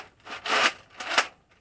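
Two quick sliding mechanical strokes, a rasping pull and a shorter return, as a Nerf Mega N-Strike Elite Centurion bolt-action blaster is racked back and forth close by.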